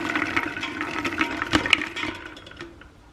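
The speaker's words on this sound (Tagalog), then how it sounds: "Lagyan natin ng konting tubig." Water poured into a pressure cooker holding soaked beans for pasta e fagioli, a splashing, gurgling stream for about three seconds that tapers off near the end, with no talking.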